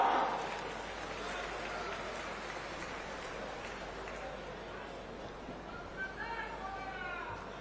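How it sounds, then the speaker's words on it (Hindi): A crowd claps at a political rally, the Awaas Nyay Sammelan in Bilaspur, Chhattisgarh, with steady broad applause that fades slightly while a voice speaks over it. "जोरदार तालियां"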